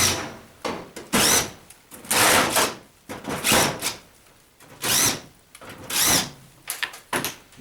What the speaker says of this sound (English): Now we need to undo all the screws around here.